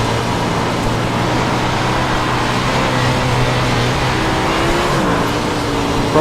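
A race car engine in iRacing, a dirt car with about 850 horsepower, drones loudly and steadily with a low throbbing tone and slight pitch shifts as it powers out of corners, with no speech.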